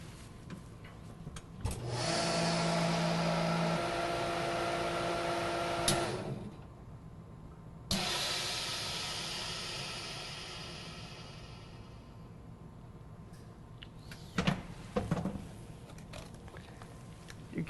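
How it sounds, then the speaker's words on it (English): A vacuum sealing machine runs with a tray of cucumbers in marinade inside, giving a steady loud mechanical drone that cuts off, then a second softer run that gradually fades, followed by brief clicks and a short burst near the end. "We place our product inside the vacuum machine using our slant tray."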